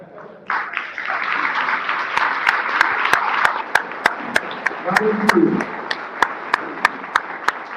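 Warm audience applause at an awards ceremony for chess club volunteers, a steady wash of many hands clapping that rises and holds, punctuated by sharp regular claps toward the end.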